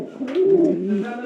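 A pair of pigeons gives a close, fairly loud throaty coo that swells and dips over about a second, with no talk over it.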